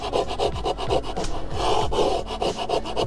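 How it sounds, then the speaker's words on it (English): Hand scraper working old layers of paint off an RV wall, a steady run of close, loud rasping strokes in quick rhythm, with no voices. "That's all I'm qualified to do, scrape stuff off the wall."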